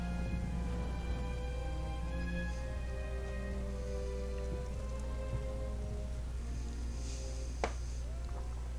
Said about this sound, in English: Oh, and it's pouring down rain.